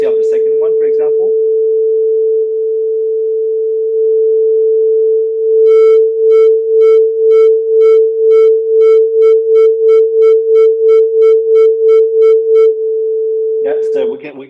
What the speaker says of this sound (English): we can create the tones or the beats like this by just playing with the phases of the sounds or the frequencies of the sounds